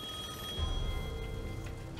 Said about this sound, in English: I guess the phone still works.